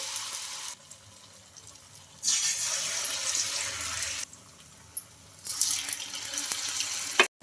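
Batter-dipped oats pieces drop into hot oil in a kadai, bursting into a loud bright sizzle that comes in two surges between quieter stretches, with no talking.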